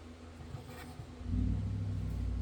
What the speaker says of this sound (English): Please ignore the cars outside.